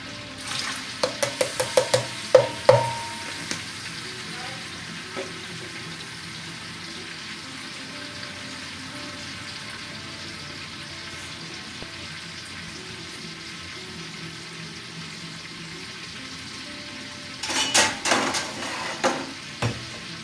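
Cumin seeds and garlic-ginger paste sizzle in hot oil in a pot for aloo tehri. A soft, steady frying hiss runs throughout, with clattering stirs at the start and again near the end.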